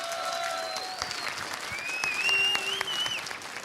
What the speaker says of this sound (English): Guys, a big round of applause again for the Ninjas in Pyjamas.